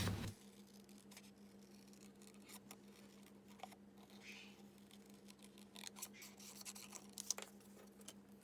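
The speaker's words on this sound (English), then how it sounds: "Let's fussy cut out our little penguin." Soft, quiet snips of scissors fussy-cutting a small paper penguin for a Stampin' Up card, scattered crisp cuts over a steady low hum, close and delicate with no talking.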